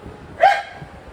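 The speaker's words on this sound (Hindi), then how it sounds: "ये देखो अभी बाहर कुत्ते भौंक रहे हैं ना" A dog outside gives one short, sharp bark in the middle of an otherwise quiet indoor moment, heard at moderate distance.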